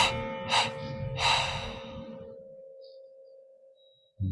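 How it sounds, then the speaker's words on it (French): Breath is let out in three audible puffs during a guided breathing meditation, soft close exhalations followed by a faint sustained tone and near silence. "Puis, on prend une inspiration profonde. On expire en 3 fois."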